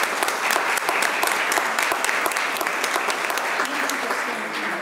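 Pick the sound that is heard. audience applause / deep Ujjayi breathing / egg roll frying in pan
audience applause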